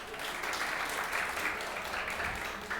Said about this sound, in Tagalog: Pumalakpak ang mga hindi toong nagastusan kahapon.